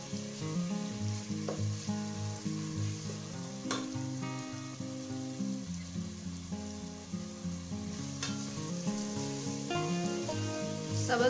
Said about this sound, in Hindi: सब्ज़ मिर्चों को हमने फ्राई कर लिया टमाटरों के साथ